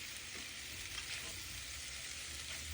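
Pork pepper fry being stirred in a pan, heard as a steady, continuous frying hiss with faint scraping, no voices.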